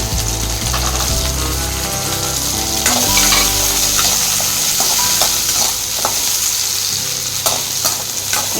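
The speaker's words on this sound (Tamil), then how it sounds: "நல்லா வணங்கட்டுங்க வணங்கினா தான் குழம்பு டேஸ்ட்டாக இருக்கும்" Small onions and garlic sauté in a pan for a drumstick kara kuzhambu, giving a loud continuous sizzle with scraping stirs and light clinks of a utensil against the pan throughout.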